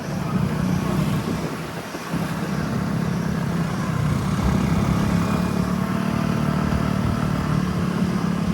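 A motorbike runs along a mountain road near Mukteshwar, its engine a steady, loud drone with a constant rumble and rushing wind, broken only by a brief dip near the start.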